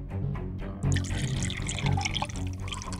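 Water poured to drink, a steady gurgling stream into a vessel that starts quietly and grows fuller and louder after the first second, close by and continuing without a break.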